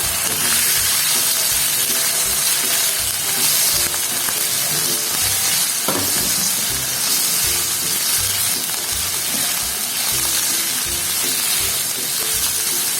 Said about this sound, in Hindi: 1 से 2 मिनट इसको फ्राई करें।